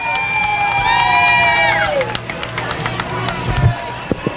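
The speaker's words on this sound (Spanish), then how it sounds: "Fuerte aplauso para" A crowd at a stage show cheers and shouts, with children's voices and whistles in the mix, while a sung tone fades out early on; the noisy cheering carries on loud and close throughout.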